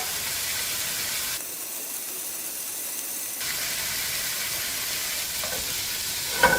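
Shrimp sizzle steadily in hot oil in a frying pan, a continuous loud crackling hiss that dips briefly partway through and then resumes, ending with a small clink.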